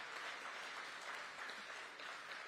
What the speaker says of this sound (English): Please, can we put our hands together again for Mr.